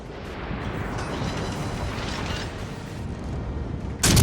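Battleship gunfire in the naval game World of Warships, a sustained rumbling barrage of heavy booms and blasts that ends in a sharp loud burst, no talk.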